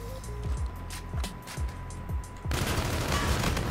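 KARMA-45 gunfire in a video game, bursts of rapid shots over a steady background hum, swelling into denser continuous firing in the final second.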